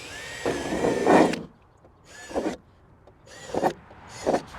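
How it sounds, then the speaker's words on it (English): Electric drill boring a hole through the center of a gutter being built into a hanging strawberry planter, heard as several separate whining bursts of a few seconds each with short pauses between, close and fairly loud. "just drilling a hole right in the center of the gutter"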